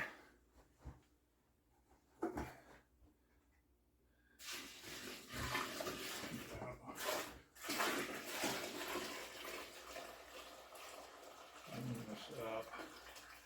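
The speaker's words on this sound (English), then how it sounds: "I'm going to add some water to that." Water poured into a batch of cracked corn and barley mash for a seven-gallon brew, a loud rushing splash that starts after a few quiet seconds and carries on steadily, with a person talking over it.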